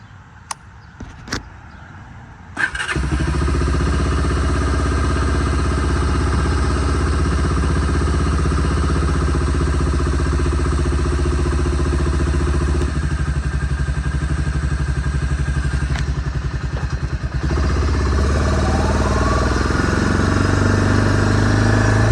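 A 1986 Honda Fourtrax ATV, a barn find with surface rust, starts up and runs on its stock exhaust, settling into a steady, fairly quiet idle that carries on alone and close by for the rest of the clip.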